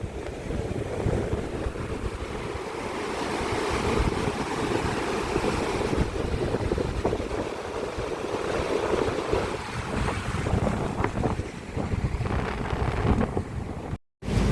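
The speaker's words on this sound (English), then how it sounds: "This river is really coming down strongly, eh?" Fast-flowing river in Colombia rushing in a constant loud roar, with gusts of wind buffeting the microphone throughout.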